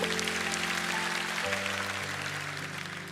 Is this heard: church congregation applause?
yes